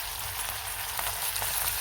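Tomato and curry leaves hit hot oil with frying onion for a stuffed brinjal curry, giving a steady, close hiss of sizzling that holds throughout at an even level, with no talking.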